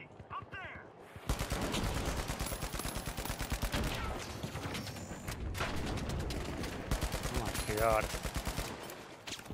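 Rapid automatic gunfire from the shooter game The Finals rattles in long sustained bursts, loud and close, with a short gap between bursts, while a player briefly speaks over it.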